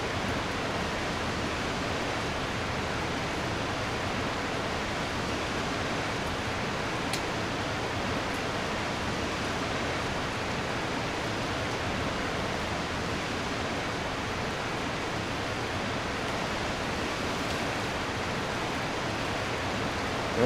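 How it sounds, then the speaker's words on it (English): Steady, soothing waterfall ambience in the Farming Simulator 22 forestry logging map, a continuous broadband rush of falling water held at an even level throughout with no talk over it. "It's awesome to have that soothing waterfall sound there."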